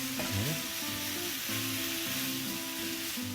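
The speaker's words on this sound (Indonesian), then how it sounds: "Kita masukkan nasinya. Dan kita aduk kayak bikin nasi goreng biasa aja." Cooked rice is stir-fried with tomato and egg in a hot pan, giving a loud, continuous sizzle with repeated scraping and stirring strokes close up.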